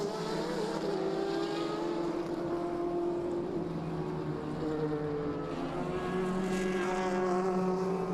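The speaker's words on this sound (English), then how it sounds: "Cheng's got past Sawa, so now Cheng is now going to be gunning for his main competitor in LMP2" LMP2 prototype race cars, including an Aston Martin, racing at the Inje circuit in an Asian Le Mans Series round, with steady engine drone and a tonal whine that slowly rises and shifts as the cars pass, moderately distant.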